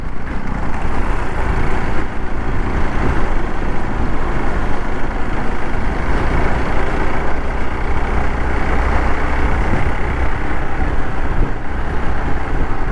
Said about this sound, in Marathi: बाईकची ना हीच मजा आहे डांबरी रस्ता सोडून या रस्त्यावर गाडी चालवण्याची